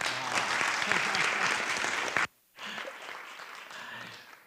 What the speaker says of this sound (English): We would like to give a round of applause to Rosemary's informative presentation.